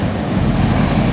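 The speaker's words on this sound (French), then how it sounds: "Wesh, regardez la vague encore derrière." Ocean waves crashing onto a beach in Rio de Janeiro before dawn, a steady roaring wash of surf with heavy low rumble and wind buffeting the microphone, close and loud throughout with no voices.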